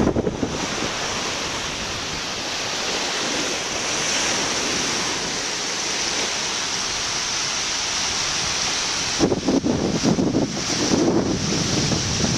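Waves wash onto the beach by the Crab Trap in a steady, loud roar of surf, with wind buffeting the microphone and gusting harder near the end.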